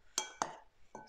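A teaspoon clinks sharply against a bowl while stirring a homemade play dough mixture: three or four quick, close, bright taps in a quiet room.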